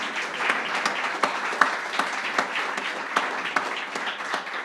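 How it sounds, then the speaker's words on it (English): An audience at a company annual general meeting claps for the executive team, a continuous round of applause with dense overlapping hand claps and no speech. "If you can recognize them and give them a round of applause."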